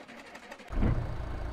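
An old junkyard truck engine in a video game strains to start, giving a quiet mechanical rattle before a sudden, loud low rumble catches and keeps churning unevenly, with no voices over it.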